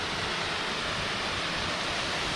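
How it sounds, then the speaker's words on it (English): Broad, constant roar of a proper waterfall swollen after rain, close and loud, with dense rushing water filling the scene and no other sounds over it. "This is the first actual waterfall I've ever seen. It's a proper one, yeah. It's nice and flowing too with the rain."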